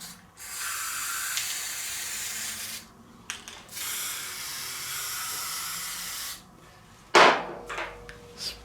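A spray can hissing in long, steady bursts over a model being painted, with short pauses between sprays and a sharp clatter near the end.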